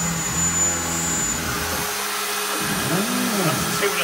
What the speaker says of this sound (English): Okay, so the machine's now running. It's quite the clock face.